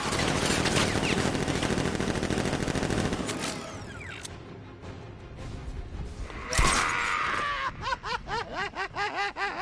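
Militia gunfire in Batman: Arkham Knight rattles in rapid automatic bursts, loud at first, then thinning out before a burst of laughter-like chatter and another volley.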